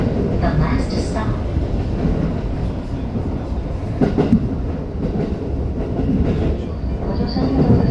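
A Tokyo Metro Tozai Line 05 series subway train runs along the track, its steady rumble and wheel clatter loud and continuous, with faint squeals over the noise.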